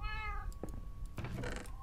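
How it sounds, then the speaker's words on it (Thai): A Minecraft cat gives a single short meow at the start, followed by scattered in-game thumps and rustles at moderate volume with no talking. "อะไรเหมียวอยู่นี่เลยนะ"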